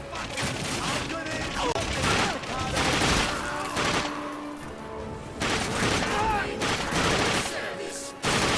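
Rapid gunfire in the video game The Darkness 2, dense bursts of shots and booms packed continuously together, loud and close, with short breaks between volleys.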